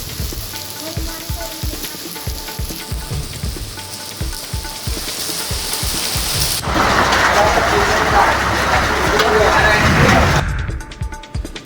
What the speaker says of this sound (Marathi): मनमाड शहरामध्ये ढगांच्या कडकडाटासह पावसानं जोरदार हजेरी लावली